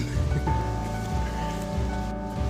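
Steady rain pours onto a cheap Frog Togs poncho and trash-bag rain kilt on a wet trail, a dense close patter and hiss with no talk.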